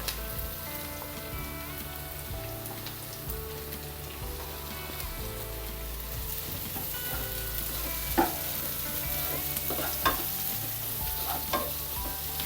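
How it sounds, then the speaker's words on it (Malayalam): A handful of small shallots sizzles and fries in a pan for a ginger curry, a steady dense crackle with occasional scraping stirs and soft clinks over the top, continuous and fairly close. "ഇതിനകത്ത് ഒരു പിടി സാമ്പാറുള്ളി അതും ഇട്ട് കൊടുക്കുക."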